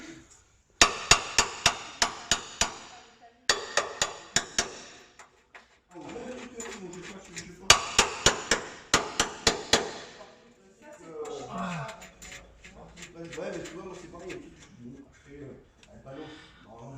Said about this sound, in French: on va finir de tapoter au marteau pour bien qu'elle soit contre